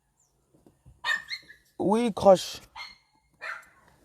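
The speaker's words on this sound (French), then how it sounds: "Il y a un chien là qui ne dort pas." A dog barks at night in a dark neighbourhood with no streetlights, a few sharp yelping barks rising over quiet surroundings, with someone speaking briefly around them.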